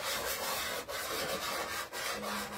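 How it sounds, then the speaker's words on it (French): Pastel rubbed across Canson Mi-Teintes paper while drawing a starry night scene, a steady close dry scraping with two brief pauses, no voices. "ça fait un petit peu de bruit quand on frotte."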